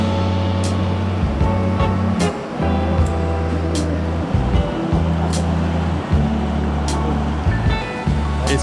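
River water rushing around tubes while river tubing in Sumatra, Indonesia, a continuous broad wash of splashing and flow under a loud engine-like drone that cuts in and out.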